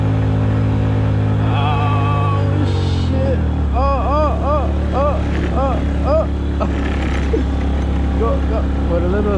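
A 50cc Honda Ruckus scooter engine labouring up one of San Francisco's steepest hills, a close, strained buzzing drone with wavering pitch, while people talk and call out over it.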